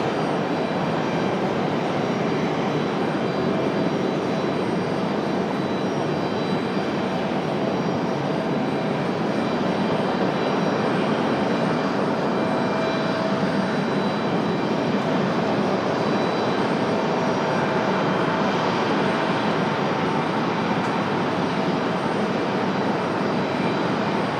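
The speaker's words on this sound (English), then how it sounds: "we got the Delta 737 up for departure now" A Delta Boeing 737 jet taking off at Raleigh-Durham International Airport, its engines producing a loud, sustained broadband roar that holds steady throughout without pause.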